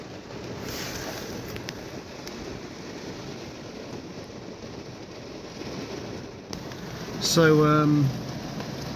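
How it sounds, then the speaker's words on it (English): Rain shower falls steadily around a lawn care worker, a soft continuous patter close by, with someone speaking briefly and a short tonal sound near the end. "I think I'll sit this rain shower out."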